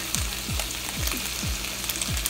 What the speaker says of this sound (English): And now my bacon is cooking